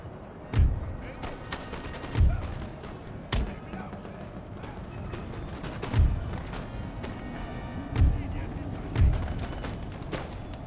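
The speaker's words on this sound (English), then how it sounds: "We're currently shooting them in the flank with this unit." Musket volleys crack out in Empire: Total War battle with Prussian troops, about six heavy thumping shots spaced irregularly over steady battlefield ambience, with someone talking throughout.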